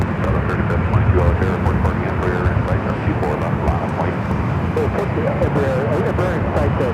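Embraer jet on runway 24 left at Los Angeles International Airport during takeoff, a steady loud broadband engine roar filling the whole stretch without break, with a voice faintly present under the noise.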